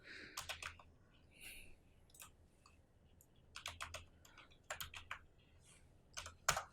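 Typing on a computer keyboard, a quiet close series of quick key clicks in short bursts with pauses between, entering a search term.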